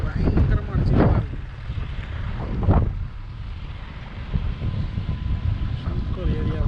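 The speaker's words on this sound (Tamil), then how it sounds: "காற்று பயங்கரமாக அடிச்சுக்கலாம் இருக்கு." Strong wind buffets the microphone on a lakeshore walk among hills, a loud, continuous low rumble with gusty swells, joined by voices talking in brief bursts.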